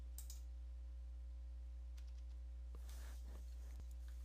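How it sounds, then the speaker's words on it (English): A single key on a computer keyboard is tapped repeatedly, giving faint, quick clicks in a short irregular burst over a steady electrical hum, with no talking. "you want to tap the F8 key repeatedly on your keyboard"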